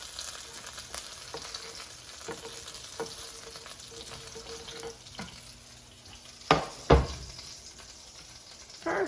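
Smelt fish fry in a frying pan with a soft, steady sizzle, punctuated by faint clicks and a couple of louder knocks of utensils against the pan, with no voices.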